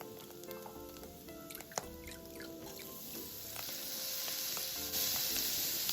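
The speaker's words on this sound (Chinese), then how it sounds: "这是浸泡了半小时后的糯米，沥干水分，再加入一起拌炒" Soaked glutinous rice stir-fried with Chinese sausage in a wok, a soft, steady sizzle with occasional stirring scrapes and clicks, close and without talk.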